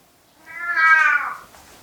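A single loud, drawn-out meow from a cat indoors, rising and falling over about a second in a quiet room.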